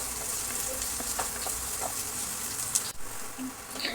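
Onions fry with soya chunks and potatoes in a pan, a continuous moderate sizzle with soft crackles and one brief stirring clatter near the end.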